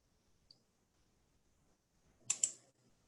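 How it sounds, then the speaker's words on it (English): A computer mouse gives one faint tick, then a short, louder double click a moment later, close and crisp in an otherwise near-silent room. "I'm going to click OK."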